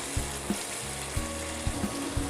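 Onion-free masala paste frying in a kadhai for restaurant-style kadhai paneer, a steady close sizzle with a few soft thumps of stirring, no voices.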